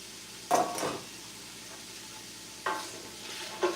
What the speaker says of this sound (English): So I'm going to put the onions in.